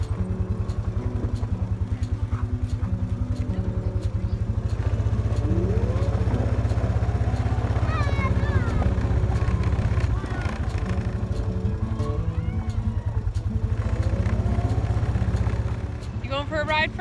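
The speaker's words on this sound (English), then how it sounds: "So you can go for a quad ride?" A quad bike engine runs steadily close by throughout, its low harmonic drone and rumble continuing while people talk over it.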